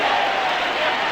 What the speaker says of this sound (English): Crowd reacts to just about anything Harding's going to do.